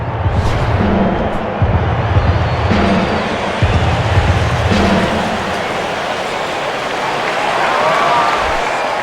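Baseball stadium crowd in MLB 10: The Show, Braves at Marlins in the bottom of the seventh, a steady broad roar of cheering with swells and rolling noise across the whole stretch.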